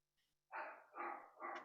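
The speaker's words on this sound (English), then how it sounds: "You'll hear my Chihuahua barking in the background" A Chihuahua gives three quick, sharp yappy barks close by in a quiet room, evenly spaced.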